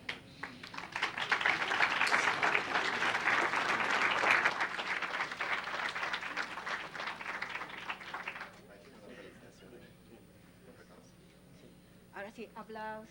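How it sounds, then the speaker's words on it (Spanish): Sustained applause from an audience at a national criminology congress during an award presentation, dense and loud for about eight seconds, then thinning into scattered claps and quieter room noise. "Ahora sí, aplausos, chicos."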